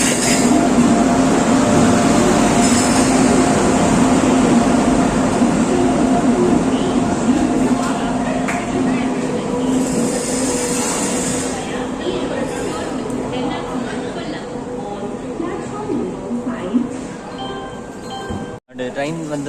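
The Sabari Express train rumbles and roars loudly alongside a platform at Tirupati, arriving about an hour late at night, a sustained heavy mechanical din with squealing and rattling, with people talking over it.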